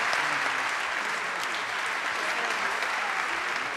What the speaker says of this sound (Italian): Facciamo un applauso a Francesco Panacci.